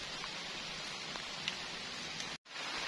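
Rain falling at night on a camping tent, a steady soft wash of drops hissing evenly, with one brief cut of silence near the end.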